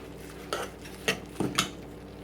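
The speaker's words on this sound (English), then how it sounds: "I'm going to add the kale. So the kale is being added in. So we're going to mix all of this in." Kale is stirred into oil in a pan, with a few separate clinks and scrapes of a utensil against the pan, spaced out over a quiet kitchen background.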